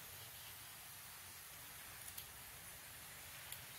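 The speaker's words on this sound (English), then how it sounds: "It's still raining lightly outside." Light rain falls outdoors as a faint, steady hiss with a few soft drop ticks, with no voices.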